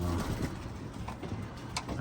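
Soft pigeon cooing inside a bird loft, a few low murmuring calls close by over faint background rustle.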